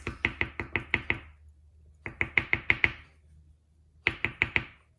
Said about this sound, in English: then you just tap out the excess